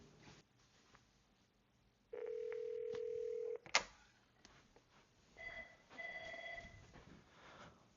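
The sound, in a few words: Avaya IP Office phones ringing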